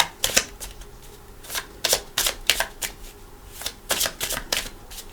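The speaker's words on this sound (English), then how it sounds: "I'll give them a couple shuffles" Tarot cards being shuffled by hand, a series of crisp riffling bursts in uneven rhythm, close and fairly loud with no talking.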